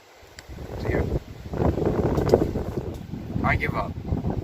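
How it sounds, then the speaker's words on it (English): Strong, cold wind gusts against the microphone during fishing outdoors, with heavy rumbling buffeting throughout and someone speaking over it. "It's windy."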